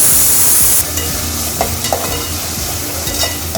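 Onions and green chillies sauté in a hot pan, a soft steady sizzle broken by a few scraping stirs close by, with no talk.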